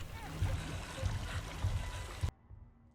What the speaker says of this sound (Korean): 언제 어디서나 들을 수 있는 물소리.